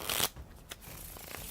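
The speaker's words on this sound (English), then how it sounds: "The cards are shuffled." Playing cards shuffled by hand during a magic trick, one brisk riffle at the start, then a few soft taps and slides of the deck, fairly quiet and without talk.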